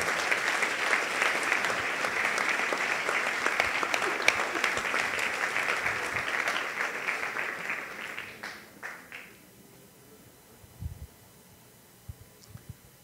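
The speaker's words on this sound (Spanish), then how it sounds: "dele un aplauso a nuestro Rey" A church congregation at a Sunday service applauds warmly and steadily for about eight seconds, then the clapping fades out, leaving near silence with a few faint knocks.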